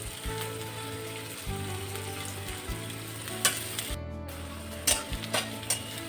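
Chopped onion frying with salt in a pan, a steady close sizzle with dense crackle throughout and a few brief stirring scrapes and clinks.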